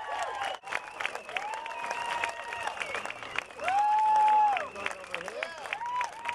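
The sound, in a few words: crowd applause at Hollywood Walk of Fame ceremony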